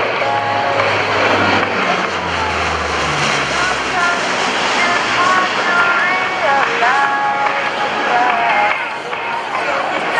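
A Lockheed KC-130 'Fat Albert' transport flies at the 2015 NAS Oceana airshow, its engines a steady, continuous roar beneath loud announcer-style talk that runs through the whole clip.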